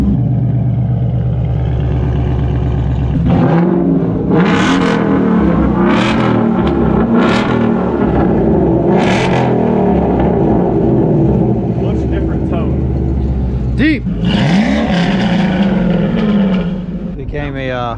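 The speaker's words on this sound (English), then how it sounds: "Like a rev off battle here." Several Ford Mustang GTs running E85 fuel revving against each other in a rev battle, loud close engine roars rising and falling in repeated sharp bursts over a rumbling idle, with people talking over the noise.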